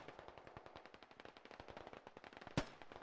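Machine-gun fire in the video game Squad comes as a rapid, continuous burst of evenly spaced shots, close and sharp, with one heavier louder report near the end.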